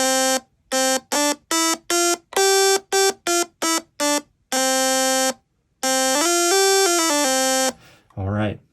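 A buzzy, reedy Stylophone pocket synth with a tuning issue plays short staccato notes at maximum volume, then a longer sliding phrase, loud and electronic, ending in a brief low sweep.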